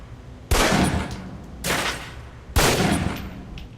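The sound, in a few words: pistol shots at target in Alpha Protocol video game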